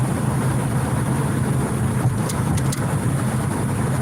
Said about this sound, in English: There's a lot of road noise from the car and the bad road.